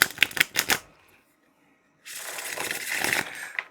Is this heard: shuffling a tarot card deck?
yes